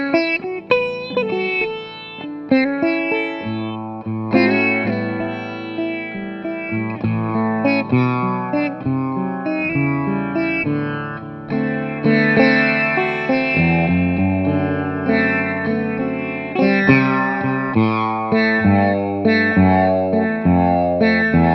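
A sitar is played in a blues style, with bright plucked melodic lines and sustained bending notes that ring steadily for about twenty seconds, solo and close.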